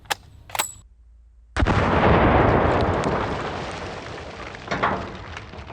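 Bolt-action elephant gun fired outdoors by a left-handed shooter, one huge, booming shot after a brief hush, its roar lingering and slowly decaying, with a faint metallic click before and a rustle afterward.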